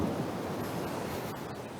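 Sea and wind on a quiet wooded hill above Rio de Janeiro, a steady soft roar of surf and breeze through trees, continuous and even with no distinct waves or voices.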